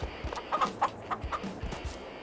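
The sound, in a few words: chickens clucking in the video game Farming Simulator 22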